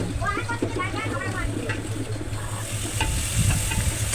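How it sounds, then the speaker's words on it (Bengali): Steady oily sizzle of onions frying in a pan, with a low hum beneath and faint scraping of a spatula; a voice is briefly heard early on. "অন্য পাতিলে পরিমাণ মতো তেল দিয়ে পেঁয়াজ কুচিটা দিয়ে দিলাম"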